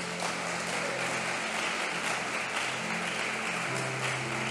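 Congregation applauding inside a church during a sermon, a dense, steady wash of many hands clapping at moderate distance for several seconds, with a low hum beneath.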